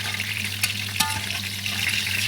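Fish frying in hot cooking oil, a steady close sizzle with a couple of brief clicks and scrapes, heard alone without talking.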